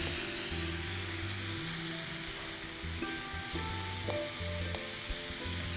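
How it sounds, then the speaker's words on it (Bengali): Mixed vegetables with soy sauce and capsicum cooking in a pan for vegetable fried rice, a steady close sizzle under a low humming drone with a couple of faint clinks and no talking. "ভেজিটেবলগুলো রান্না হতে থাকুক"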